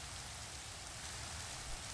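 Steady rain in a Minecraft modpack world, an even broadband patter of drops on surfaces, continuous and moderately loud throughout with no voices.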